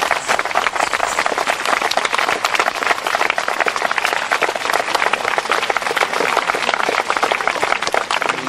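Audience applause inside Magdeburg Cathedral, dense, continuous clapping from many hands, loud and sustained throughout.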